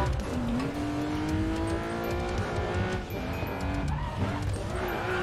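A car drifts through a corner in a racing video game, its tires squealing in long wavering tones over a loud, steady engine roar, with a brief dip in the middle before the skid resumes.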